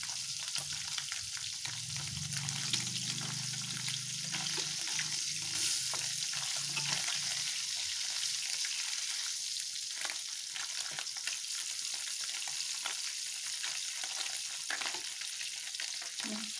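Steady, crackling sizzle of sea fish frying in hot oil, continuous and close, with occasional louder pops and spatters.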